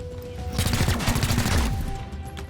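Gunfire in the tactical video game XCOM Chimera Squad erupts as one rapid burst of crackling automatic shots, lasting about a second at a moderate level, with no one speaking over it.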